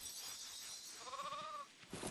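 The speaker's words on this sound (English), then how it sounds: "Let's herd these sheep, guys." A sheep bleats in the LEGO Fortnite video game, one wavering bleat in the middle of the stretch over a steady hiss of game ambience, with no voices.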